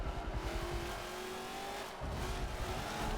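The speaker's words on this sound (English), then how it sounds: "Sounds like he's got a rotary engine in there." A rotary-engined race car in the Forza racing game accelerates hard, its high, buzzing engine note climbing and briefly cutting out at a shift before rising again, close and steady, with no talk.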